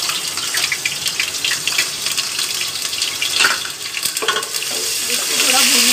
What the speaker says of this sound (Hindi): अदरक लहसुन का पेस्ट डालेंगे,